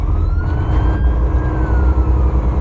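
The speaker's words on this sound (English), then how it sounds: "there comes an ambulance" An ambulance siren wails faintly over heavy, loud road and engine rumble as traffic rushes by.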